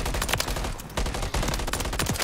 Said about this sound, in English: I just heard a gunshot